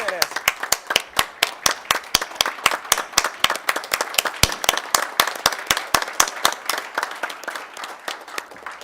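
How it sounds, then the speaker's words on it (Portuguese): Audience clapping at a public debate on toll-free roads, a dense run of sharp, fast handclaps close by that holds steady throughout, with a voice speaking over it. "uma salva de palmas para vocês que merecem. De pé, vocês merecem."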